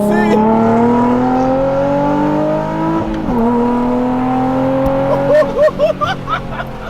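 A Nissan NISMO 380RS working through corners, engine note climbing through gears with a dip at a shift, then revving and blipping near the end, loud and close from inside the car, with a voice talking.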